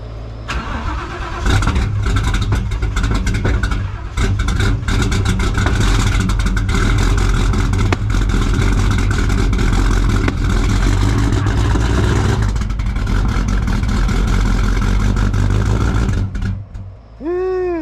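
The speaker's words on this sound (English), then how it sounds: "E85 cold start." A 900-horsepower Fox Body engine running on E85 cranks and fires on a cold start, then roars loudly and steadily at high idle for about fifteen seconds before dropping off, close and with no talk over it.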